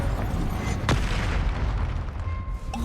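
A Confringo explosion spell cast in a video game, heard as one sharp blast near the start that collapses into a dense, roaring low rumble holding loud and steady to the end.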